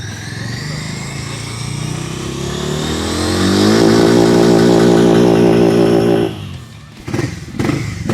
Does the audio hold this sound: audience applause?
no